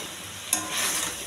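Eggplant pieces, tomato, ginger-garlic paste and salt stirred together in a hot pan, giving a steady soft sizzle with one sharp scrape of the spoon partway through and no talking.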